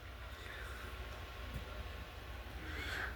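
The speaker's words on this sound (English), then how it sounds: "Okay, sorry for the train." A train passes at a distance, heard as a steady low rumble and broadband roar that holds throughout without clear horn or rail clicks.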